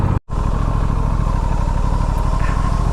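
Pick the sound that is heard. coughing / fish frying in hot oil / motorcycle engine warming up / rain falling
motorcycle engine warming up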